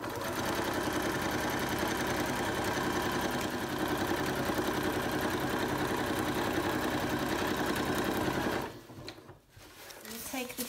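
A sewing machine runs in a long steady stitching burst while joining two rectangles of shower curtain fabric along the long side for a drawstring bag, loud and continuous, then stops near the end with a few handling noises.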